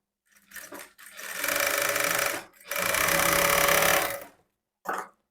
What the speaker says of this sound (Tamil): ஏற்கனவே போட்டிருந்த தையலுக்கும் பக்கத்தில் படிமான தையல் போட்டுக்கலாம்